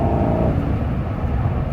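A Chevrolet Silverado pickup engine fitted with a K&N cold air intake revs with a deep, throaty broadband rumble, steady and loud throughout, with no voices.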